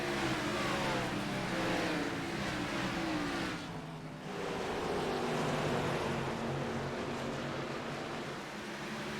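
Sim racing oval league cars at North Wilkesboro Speedway charging hard on a restart, a dense roar of engines accelerating together with a brief dip midway before the pack noise swells again.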